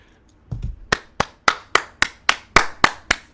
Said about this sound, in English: Applause goes to Bob.